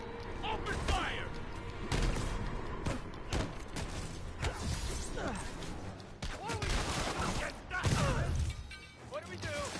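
Henchmen's gunfire in a Spider-Man video game, a busy stretch of rapid shots, thuds and impacts mixed with game effects and voices, dense and continuous.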